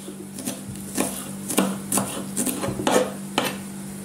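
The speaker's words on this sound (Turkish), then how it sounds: "Şöyle ince ince doğruyorum." A knife finely chops three green onion stalks on a cutting board, giving a string of soft, close taps at an uneven rhythm of roughly two per second over a low steady hum, with no talk.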